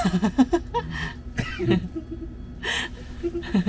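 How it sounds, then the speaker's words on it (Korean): A deliberate cough rings out inside a camper van, a few sharp bursts mixed with throat noise and breathy gasps, close to the microphone. "일부러 하는 기침입니다"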